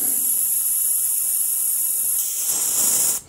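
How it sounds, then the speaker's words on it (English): Badger Patriot 105 airbrush running a quick flush of cleaner, a steady airy hiss that holds for about three seconds and then cuts off at the end, with no voices. "trusty Badger Patriot 105 that I'm just going to run a little quick bit of cleaner through"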